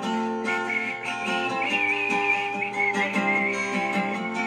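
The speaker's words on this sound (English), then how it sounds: "There's a whistle there." A sustained melodic whistle carries over a bright instrumental backing in a scripture song broadcast, holding a steady pitch line with slight wavering across several seconds, loud and up front.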